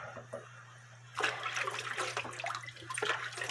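Water runs and splashes steadily as cuckoo clock parts are triple-rinsed after cleaning, a close, continuous wash starting after a quiet moment with a low hum underneath.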